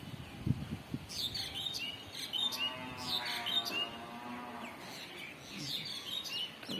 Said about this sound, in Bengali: ওই যে আম গাছটা, এই আম গাছটা রয়েছে, তাতে এসে পাখিগুলো বসছে, সুন্দর করে ডাকে